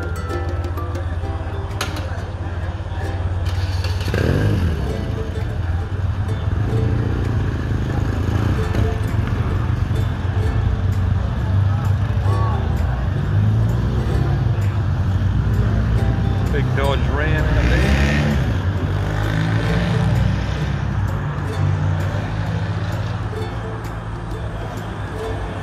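A two-stroke motorcycle engine, a machine that was hard to start, runs steadily and revs up and down nearby for the whole stretch, its low rumble continuous with voices talking over it.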